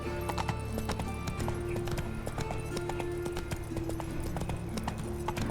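Hooves of Roach, a horse in The Witcher 3, clip-clop in a steady rhythm over a busy game soundscape with music, close and fairly loud for the whole stretch.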